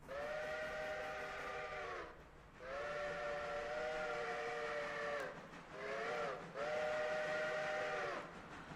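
Steam locomotive in the Railroader game running under power, a steady rumbling chuff beneath repeated long steam-whistle blasts, four sustained tones broken by short gaps.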